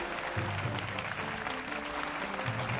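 Distant applause from an audience runs throughout, faint and continuous, with some music or tonal sound underneath.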